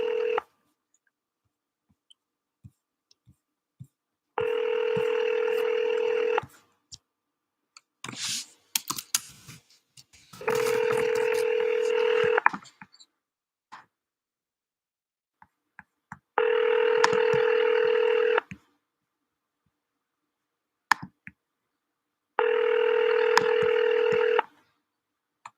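A telephone line rings out while calling a real estate lead: four steady, two-second tone bursts repeat at even intervals, with quiet gaps and a few faint clicks between them.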